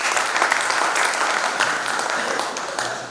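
Steady applause from an audience at a Hindi poetry gathering (kavi sammelan) in Ujjain, a dense, even wash of many hands clapping at once that carries on without a break for about three seconds.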